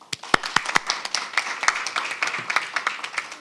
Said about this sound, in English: Please give again warm applause to Vice Minister Kang.